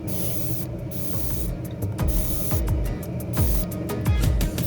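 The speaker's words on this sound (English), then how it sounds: "As usual, I sprayed the wheels, sprayed the rear spoiler" Paint sprayed onto car wheels and a rear spoiler for a Mercedes W204 C63 AMG, a steady loud hiss of the spray gun with short pulses and brief breaks in the airflow, close up and continuous.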